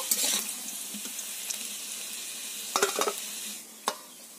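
Long potato strips fry in hot oil while being stirred, giving a steady soft sizzle with a few louder scraping stirs near the end, close and alone without talk.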